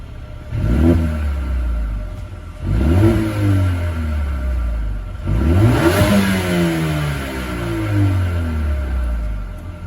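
A Mercedes-AMG A35 engine and exhaust rev repeatedly, three sharp rising bursts that fall away between them, loud and close with a steady rumbling idle underneath and no voices.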